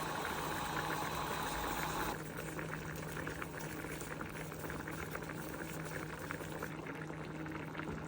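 Rice in a pot simmering until soft for a Spanish-style dish, a steady close bubbling hiss that runs throughout, louder in the first two seconds and then settling to a lower, even boil.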